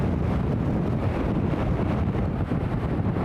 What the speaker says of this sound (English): Started blowing a hoolie.